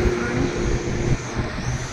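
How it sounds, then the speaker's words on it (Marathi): Military trucks rumble along the mountain road to Badrinath, a steady low engine and road drone close by with no talk. "मिलिटरीचे ट्रक आहे।"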